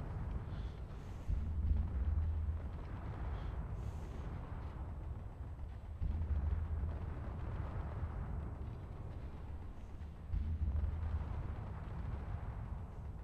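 Spaceship weapons in a Space Engineers space battle, heavy booming shots repeating every few seconds as deep rumbling blasts with a continuous roaring background.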